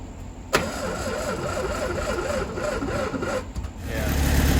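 A barn-found Volkswagen Beetle fires up after struggling on a dead battery: a sharp catch, then a lumpy mid-pitched running note that wavers for a few seconds and swells louder toward the end, close and with no talking.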